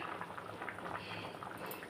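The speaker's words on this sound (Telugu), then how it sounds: "ఇప్పుడు ఇక మొత్తం నీళ్ళు ఎగరడానికి ఫుల్గా పెట్టండి" Crab curry boiling hard in a pot over high heat, giving a steady, soft bubbling and simmering that runs continuously and fairly quietly with no voices.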